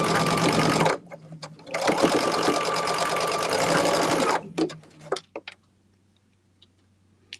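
A sewing machine runs a scant quarter-inch seam on a quilt block, with two long bursts of fast, even stitching close by, then slowing ticks and a few stray clicks before it stops.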